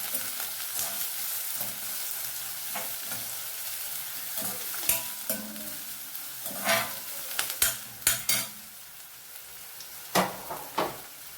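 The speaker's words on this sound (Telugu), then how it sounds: "ఇవి వేగుతున్నాయి కదండి, ఈ ఉల్లిపాయ బాగా వేగాలి, బ్రౌన్ కలర్ రావాలి." Onions, green chillies and cashews fry in a pan, a continuous sizzle broken by repeated scrapes and clacks of a spoon as the mixture is stirred, some strokes sharp and close.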